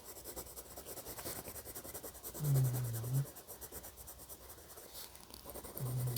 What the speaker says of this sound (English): And I'm turning my pencil as I'm going.